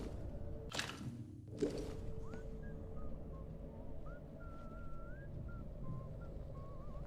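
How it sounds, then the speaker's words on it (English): An outlaw in the game Atomfall whistles a faint, wavering tune at a distance across a low ambient hum, after two sharp swishing noises near the start. "It's an outlaw whistling."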